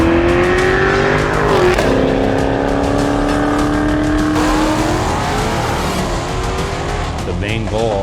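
A race car fitted with a stainless steel exhaust revs and accelerates loudly, its engine pitch rising and shifting through gears across the whole stretch, with a sustained roar and brief tire squeal as it passes.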